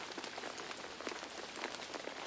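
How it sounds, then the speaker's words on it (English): Steady heavy rainfall with a dense, hissing patter of drops, even and continuous, at moderate to faint level with no voices. "The sky darkened some more, and the rain fell heavier."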